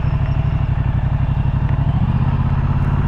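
A 2023 Moto Guzzi V100 Mandello motorcycle engine runs steadily and loud up close, its low, throbbing beat holding an even rhythm with a slight shift in pitch partway through, and no talk over it.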